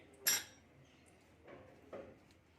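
A spoon clinks sharply against a bowl of potato raita as black salt and pepper are stirred in, one loud clink followed by two softer scraping stirs, close and alone.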